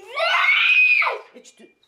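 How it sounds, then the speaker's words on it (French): A young girl screams in one sustained, loud, shrill cry indoors at home, close to the listener, trailing off into brief small vocal sounds. "Et arrête de crier."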